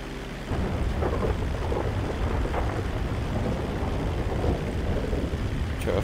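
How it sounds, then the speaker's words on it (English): Flying into a storm in GTA 5, a loud continuous roar of wind, rain and rumbling thunder fills the air, steady throughout after a brief quieter start. "Fly into the storm."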